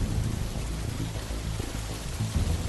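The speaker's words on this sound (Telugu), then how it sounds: "చాలా గట్టిగా వర్షం పడుతున్నందువల్ల నీళ్లు కూడా ఎక్కువయ్యాయి" Heavy rain pours steadily and loudly throughout, a dense continuous wash with a low rumbling undertone, no voices.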